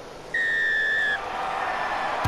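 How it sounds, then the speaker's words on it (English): A referee's whistle starts a Premiership rugby match between Bristol and Bath: one steady, clear blast lasting under a second over the low murmur of a stadium crowd. "We are underway as the whistle sounds."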